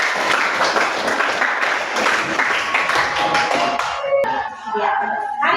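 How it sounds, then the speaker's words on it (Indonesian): A crowd applauds with dense clapping that tapers off near the end, followed by a brief voice. "tepuk tangan buat semuanya"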